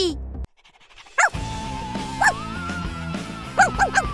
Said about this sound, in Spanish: ¡Pero si tenemos un perro!